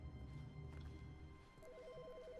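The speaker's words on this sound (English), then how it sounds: "There's a phone ringing." A telephone rings in The Stanley Parable video game, a repeating electronic trill that starts partway through and pulses steadily over a low background hum.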